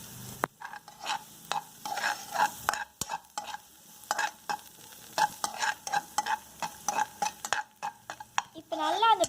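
Carrots sautéing in butter with garlic for white pasta, with repeated stirring scrapes and clinks of a utensil against the pan over a soft sizzle, close and busy, with brief speech.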